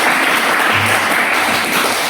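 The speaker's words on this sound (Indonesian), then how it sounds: "Bagus sekali, kasih tepuk tangan." A classroom of students claps together in a brief, loud burst, a dense wash of hand claps close to the recorder with no clear rhythm.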